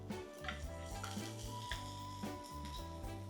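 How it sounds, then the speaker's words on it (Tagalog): Anchovies (dilis) sautéing with garlic, onion, ginger and chili in a pan, a steady close sizzle broken by a few stirring scrapes, with soft music running underneath. "Habang ginigisa ko tong aking bawang, sibuyas, luya at saka sili. Now I will add"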